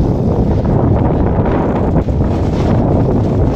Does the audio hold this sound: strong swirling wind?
yes